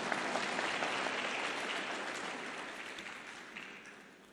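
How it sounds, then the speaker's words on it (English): Applause from a conference audience at a tax reform forum, a moderate spread of clapping heard from some distance that slowly fades toward the end. "I was hoping for an applause."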